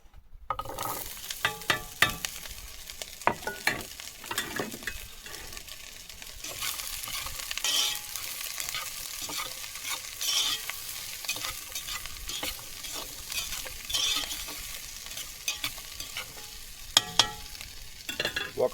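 Celery, carrot, onion and turnip sizzle and crackle as they brown in a camp oven at a campsite, with stirring scrapes and clinks over a steady fry and no talk.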